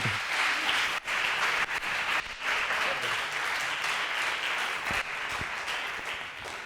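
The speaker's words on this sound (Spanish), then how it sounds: "Un fuerte aplauso para Julio Alejandre" Loud, dense applause from a large audience at a TED talk event fills the whole stretch, steady and sustained with no voices over it.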